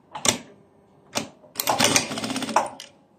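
Sewing machine stitching the shoulder seam of a shawl-collar vest, running in short close bursts with a longer steady run of rapid mechanical stitching, no talk.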